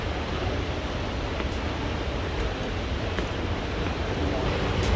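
A massive waterfall pours down in a steady, loud, broadband roar that stays constant and close throughout, with wind buffeting the microphone.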